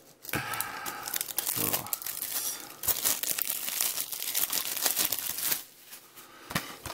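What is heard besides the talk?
peeling a sticker off a Blu-ray case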